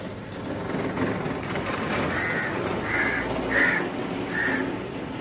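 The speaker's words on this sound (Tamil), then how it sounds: "காக்கா குஞ்சு பறக்கிறதுக்கு" A young crow chick standing ready to leave the nest for its first flight gives four harsh caws in a loose series, moderately close, against a steady outdoor background hiss.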